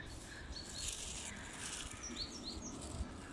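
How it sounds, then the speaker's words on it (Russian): Small bird chirping outdoors on a winter walk, a few faint, high, quick chirps scattered over a steady low background hum, distant and soft. "Птица поет."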